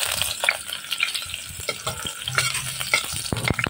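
Onion fries in hot oil in a pan for chicken tinola, giving a steady crackling sizzle broken by the scraping taps of stirring, close and continuous.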